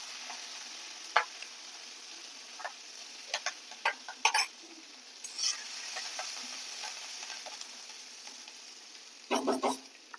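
Cumin, mustard seeds, asafoetida powder and curry leaves frying in hot oil for a Marathi potato dry curry, giving a steady soft sizzle with scattered sharp crackles and clicks and a louder popping burst near the end.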